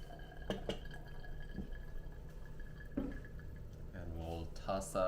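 Hot water trickles and drips onto a folded paper filter in a Hario V60 dripper to preheat it, soft and faint against a quiet kitchen background.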